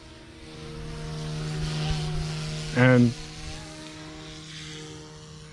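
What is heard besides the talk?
Fly Wing 200 micro RC helicopter flying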